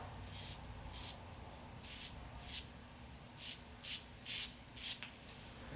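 Henson AL13 safety razor pulling across stubble while shaving, a series of short, faint scraping strokes in an uneven rhythm against a quiet background.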